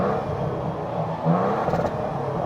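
A 2024 Toyota Tundra TRD Pro with a turbo engine revs its exhaust, giving a steady, loud engine whir and rumble that swells briefly in the middle, with no talking.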